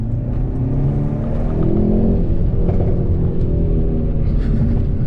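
A 2019 Hyundai Veloster N accelerates hard, its engine a loud, continuous rumbling roar with rising tone heard from inside the cabin, with no talking.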